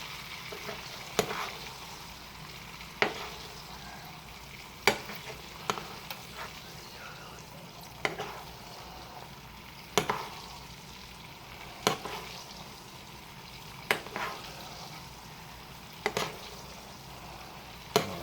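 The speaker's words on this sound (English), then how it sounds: "we're going to continue to tilt the pan and baste our steak, just like this" A steak sizzles in butter in a tilted stovetop pan while being basted, giving a steady low frying hiss with periodic sharp spoon clinks and spatters.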